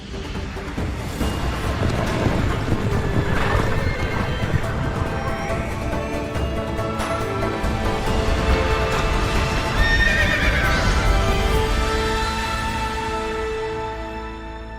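A game skill effect of galloping horses, a loud sustained rush of many hooves and whinnies swelling and then fading over about fifteen seconds, with no talk.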